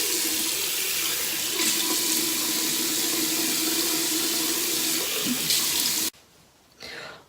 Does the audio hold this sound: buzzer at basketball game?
no